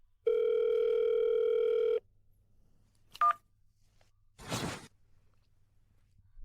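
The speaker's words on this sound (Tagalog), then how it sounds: "Clara, bakit hindi siya sumasagot sa telepono sa panahong ganito?" An unanswered telephone call rings with one long, steady electronic tone, followed by a short sharp click and a soft rustling whoosh, with no voices.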